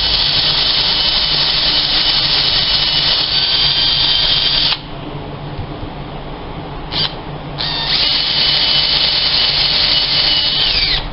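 A power tool grinds a small divot into a speedometer gear part from a 2000-2005 VW Jetta, running loud and steady, pausing briefly near the middle, then resuming its high whine.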